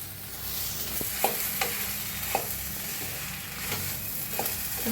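Potato vada pav filling is stirred in a hot pan, a spoon scraping and knocking against the metal every second or so over a continuous soft sizzle.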